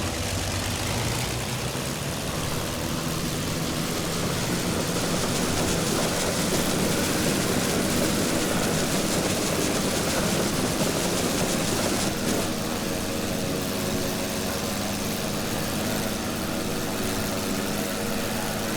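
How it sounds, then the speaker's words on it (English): Aircraft engine running steadily in the flight game Wings Over Flanders Fields, a constant dense droning roar with no change in level, heard alone. "Okay, engine is working."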